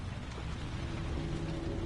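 Heavy rain falls as a steady, dense hiss, close and unbroken, with no voices.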